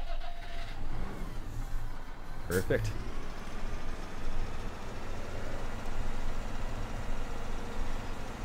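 Tractor engine in the Farming Simulator 17 farming game, a steady low motor drone running the whole time beneath a voice, with a short sharp click partway through.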